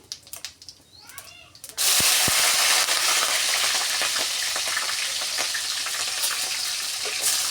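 Cloves for fast-food-style fried rice drop into hot oil in a pan, starting a sudden loud sizzle that holds steady and close. A voice and a few small kitchen sounds come first.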